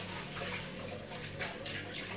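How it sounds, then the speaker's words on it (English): Rice being washed in water by hand, a continuous sloshing, swishing water sound with soft rushing texture, close and steady throughout, with no talking. "First, let me wash my rice."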